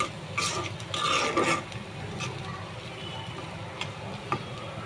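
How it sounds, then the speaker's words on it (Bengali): Spice paste for loitta fish is sautéed in oil, with close stirring scrapes and clicks of a spoon against the pan over a low, steady sizzle, loudest early on. "ভালো করে একটু কষিয়ে নেবেন"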